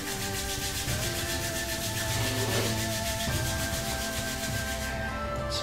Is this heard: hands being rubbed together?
yes